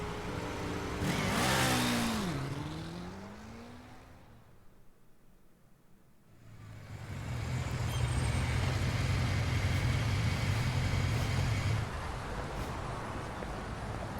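A car driving at full throttle in the video game 13 Sentinels: a loud engine rev at first, a brief lull, then a steady roaring drive close by with road noise.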